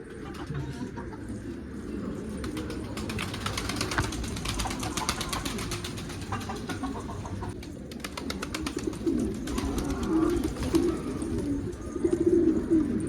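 Doves coo repeatedly inside a chicken coop, soft rolling calls that recur throughout over a low background hum, with occasional rustling and faint voices.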